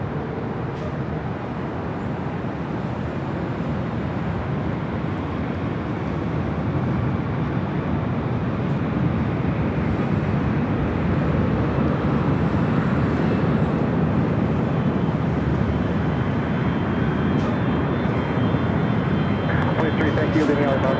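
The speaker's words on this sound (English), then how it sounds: "I love that spool up sound." At LAX, an Airbus A380's jet engines spool up into a broad, rising roar that builds steadily and stays loud from some distance, with occasional talk underneath.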